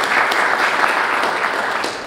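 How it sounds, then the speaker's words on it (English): A room of attendees at a photography lighting masterclass applauds as model Jane is welcomed, sustained even clapping from a moderate crowd that tapers slightly at the end. "can you give Jane a round of applause?"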